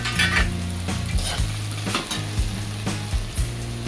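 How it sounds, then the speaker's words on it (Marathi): Okra (bhendi) sizzling in a pan for a Marathi-style bhaji with ground peanuts, a steady loud frying hiss broken by rhythmic scraping and clinks of a spatula stirring against the metal, close up and without speech. "भेंडीला परतून घेणार आहोत."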